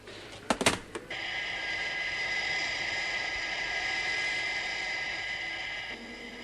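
A test aircraft from the 1970 TV series UFO passes with a steady, loud jet-like roar and hiss after a few sharp clicks at the start, the sound holding evenly before easing slightly at the end.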